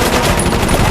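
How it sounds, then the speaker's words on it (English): Film gunfire from thugs shooting police officers during a hostage standoff: a very loud, dense, continuous burst of rapid automatic fire filling a brief moment. "The cops agreed to drop their guns and the thugs immediately shot them."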